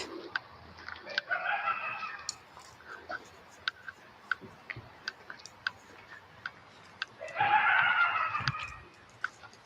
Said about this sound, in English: Sounds like a bit like a bird.